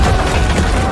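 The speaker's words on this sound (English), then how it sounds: "a guard fires a rocket launcher, obliterating the bridge behind them in a fiery explosion" A rocket strikes a bridge in a fiery movie explosion, a loud, brief boom with a crashing burst that fills the whole short moment.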